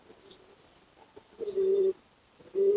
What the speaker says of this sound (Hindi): बहुत ज़बरदस्त कबूतर है ये भी।